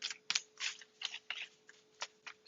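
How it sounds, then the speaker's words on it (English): A well-worn tarot deck with matte, rubbery cards is shuffled by hand, producing quiet, close bursts of riffling and soft slaps at an irregular pace. "This deck is actually getting easier to shuffle now."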